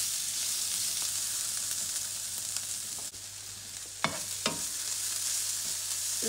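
Shredded cabbage, salted and peppered, cooking in a pan, with a steady close sizzle and hiss throughout, a low hum underneath, and a couple of brief stirring scrapes near the end.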